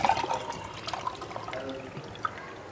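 Water trickling and spilling out through a small hole cut with a knife in a water-filled container, a faint, uneven splashy dribble heard close with no talking.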